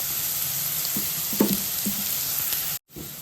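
Carrots and mixed vegetables fry on a high flame, a steady close sizzle broken by a few soft stirring knocks, with a brief dropout near the end.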